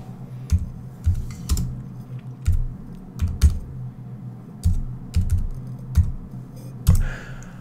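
A computer keyboard clatters nearby in short irregular bursts of keystrokes separated by brief pauses, with no voices.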